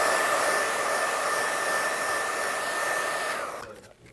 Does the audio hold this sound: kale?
no